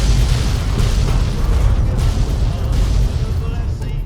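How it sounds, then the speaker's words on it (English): An explosion from a laser detonator in the video game Fallout New Vegas: a loud, sustained, rumbling blast with heavy low-end boom and crackling bursts lasting throughout. "Especially when I discovered this laser detonator."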